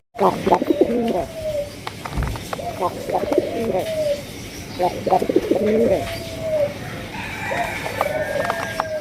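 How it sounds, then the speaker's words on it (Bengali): Rajgolla pigeons coo repeatedly in low, throaty bursts, with other birds calling around them and steady background noise throughout. "অনেক সুন্দর একজোড়া রাজগোল্লা কবুতর দেখতেই পাচ্ছেন"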